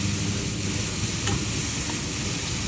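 Mushrooms being stir-fried in a pan to make a soup base for a Thai mushroom chili paste, with a steady, continuous sizzle and frying hiss and faint utensil stirring, heard alone.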